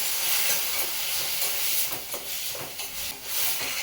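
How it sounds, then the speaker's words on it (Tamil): Onion sautéing in a pan for prawn thokku, a soft steady hiss and sizzle with light stirring movements, fairly quiet and continuous throughout. "இப்போ நம்ம இந்த வெங்காயத்தை இதில் ஆட் பண்ணிக்கலாம்."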